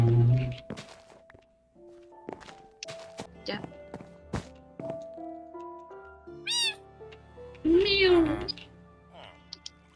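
A cat in the Minecraft video game meows twice in high, rising and falling calls, the second louder and longer, over soft melodic game music with scattered light footsteps and clicks.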